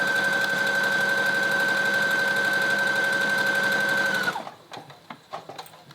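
A sewing machine stitches a high-waist pleated skirt with a steady, close, continuous whirring hum, then stops abruptly, leaving a few light clicks and handling sounds.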